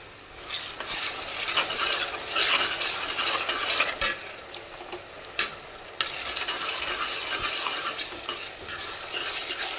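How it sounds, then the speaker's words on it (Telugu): Ginger garlic paste fries on top of browned onions in a pan for a chicken egg curry, a steady sizzle under frequent stirring, with a few sharp clinks of a spoon against the pan. "అల్లం వెల్లుల్లి పేస్ట్ పచ్చివాసన పోయేదాకా వేగనివ్వాలి"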